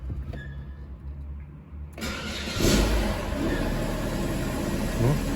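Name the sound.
car engine running while warming up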